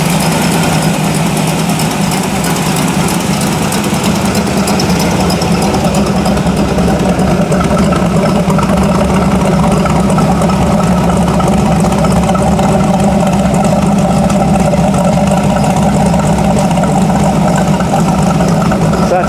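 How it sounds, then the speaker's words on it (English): A chopped 1931 coupe hot rod V8 idles with uncapped headers, a steady loud low rumble that runs unbroken and close for the whole stretch, with no talking over it. "curious to see what she sounds like when I uncap the headers"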